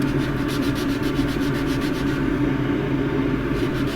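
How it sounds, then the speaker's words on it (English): Steady rhythmic scratchy rubbing of sandpaper against a warped box elder plate on a lathe rotated by hand, repeated strokes over a low rumbling background, close and fairly loud. "rotate the lathe by hand, so every time you push you're sanding across center"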